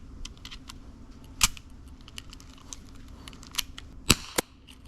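A low-powered airsoft pistol fires about 250 FPS, giving a few sharp, light snaps with irregular gaps and small clicks between them. The loudest pair comes near the end.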